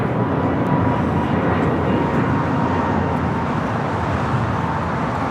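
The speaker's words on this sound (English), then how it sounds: "This is American Airlines Flight 59 taking off to Kailua Kona on the A321neo." An American Airlines A321neo airliner taking off at Los Angeles airport, a loud, steady broadband engine roar held throughout without letting up, no voices over it.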